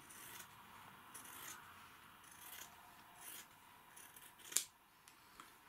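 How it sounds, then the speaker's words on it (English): Scissors snip through trouser pocket fabric in a series of soft close cuts and rasps, with one sharper click near the end, quiet and alone. "So now all we do is get the scissors and we cut across here"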